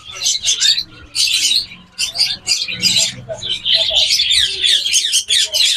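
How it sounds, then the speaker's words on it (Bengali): Finches in a bird shop fill the air with dense, continuous high chirping and twittering, loud and close, with a voice or two mixed in. "এখানে ফিন্স পাখি আছে, অনেক সুন্দর সুন্দর ফিন্স পাখি।"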